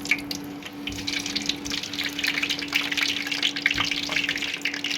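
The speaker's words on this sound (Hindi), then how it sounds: "और इन एग्स को हम फ्राई कर लेंगे इस गर्म तेल में।" Boiled eggs fry in hot oil for an Afghani egg curry, giving a continuous close, busy crackling sizzle with scattered pops over a low steady hum.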